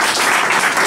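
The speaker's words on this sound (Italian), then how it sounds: "Un applauso ad Antonella." Guests at the opening of an international contemporary art exhibition applaud an artist with a brief, loud burst of dense, close clapping.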